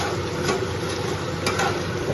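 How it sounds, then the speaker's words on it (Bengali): Fish heads frying in hot oil in a home kitchen, a steady, dense sizzle with crackling spatter that runs unbroken and close throughout, with no voices. "মাছের মাথা একদম আস্তে দিয়ে ভাজছে, কারণ প্রচন্ড নামে তেল ছিটে"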